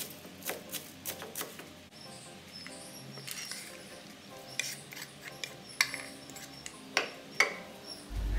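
Sweet corn kernels are shaved thinly off the cob, producing soft rasping scrapes and scattered ticks, with a few sharper knocks toward the end, close and without voices.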